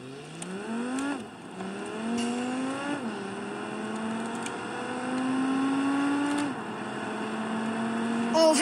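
A car engine in BeamNG.drive revs up repeatedly through rising gear pulls, each climb cut by a shift before the pitch rises again, loud and close with brief speech between.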